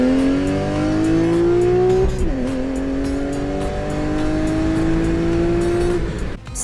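A car with a loud, raspy exhaust revs up in rising pulls, drops briefly, then climbs again before cutting off.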